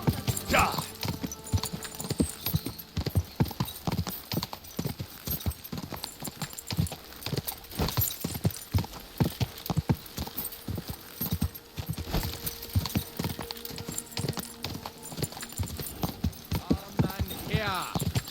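Steady clip-clop of horse hooves trotting throughout in the video game Kingdom Come: Deliverance II, with voices talking over the hoofbeats and a brief whinny.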